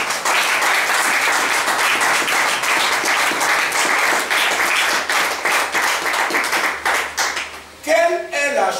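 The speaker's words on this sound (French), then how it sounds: "Acclame le Seigneur plus fort." A church congregation claps and applauds loudly and steadily in praise during a worship service, and the sustained clapping fades out toward the end.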